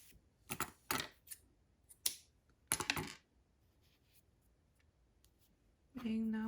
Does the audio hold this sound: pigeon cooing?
no